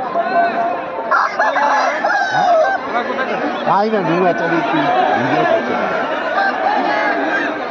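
A rooster crows loudly and repeatedly at a busy village fair, its calls rising over dense crowd chatter and clucking, with people talking throughout.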